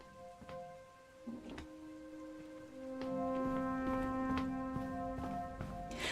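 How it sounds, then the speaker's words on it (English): A rain sound effect playing behind a game: a soft, steady patter of rainfall under sustained tonal drones and occasional clicks, fairly faint, with no talking. "I also have my rain sounds on."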